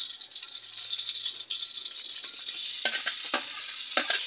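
Paksiw with eggplant and string beans sizzles steadily in a pan while a utensil stirs it, with a few sharp scraping clacks near the end.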